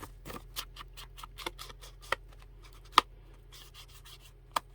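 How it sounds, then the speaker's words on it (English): Ink rubbed around the edges of a small paper card for a travel junk journal, a quiet sequence of short scratchy brushing strokes with a few sharper taps, close and alone. "So I'm gonna just ink around this little card"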